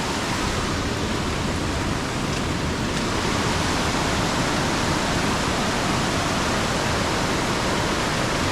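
A strong, rain-swollen stream on an off-road trail in Idukki, Kerala rushes in a dense, unbroken roar that stays loud and steady throughout, with no speech.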